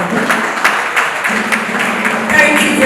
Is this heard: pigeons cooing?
no